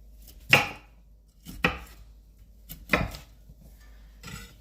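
A knife chops through broccoli on a cutting board in three or four firm, close strokes with pauses between them.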